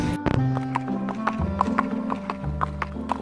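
A horse clip-clops steadily at close range, with a few sharp hoof strikes standing out from a busy, continuous background of music and other noise.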